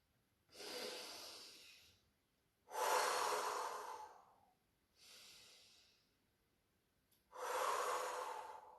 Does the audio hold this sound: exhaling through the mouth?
yes